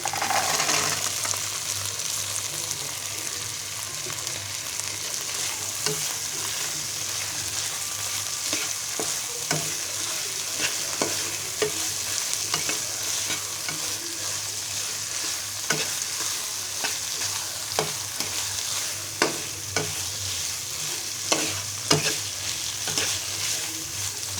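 Boiled chickpeas stir-frying in a wok make a constant sizzle broken by frequent scraping and tapping of a spatula against the metal, close and alone.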